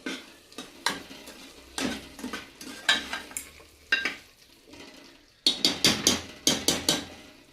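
A spoon scrapes and knocks against a pot in a series of quick strokes, with pauses between bursts, as a vegetable curry with gravy is stirred after salt is added.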